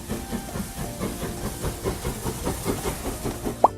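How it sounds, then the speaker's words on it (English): A steam train chuffs in a steady rapid rhythm with continuous hissing steam and faint rail clatter, fairly loud and close, ending on a short high whistle-like tone, with no voices. "The train goes choo-choo in the rain."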